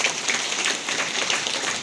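Audience applause at a PDIP political party rally, a steady wash of clapping from a crowd that holds evenly for the whole stretch.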